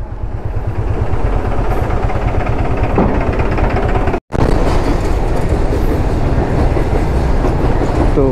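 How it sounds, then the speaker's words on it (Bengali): A train runs alongside the road near the Farakka Barrage, heard from a moving motorcycle as a loud, steady rumble with rhythmic clickety-clack of wheels, mixed with wind and road noise. "বাঁদিকে যাচ্ছে ট্রেন, ডান দিকে যাচ্ছে আমরা।"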